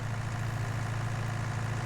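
A tractor engine idles in Farming Simulator 19, a steady low diesel drone with an even throb and no change in pace.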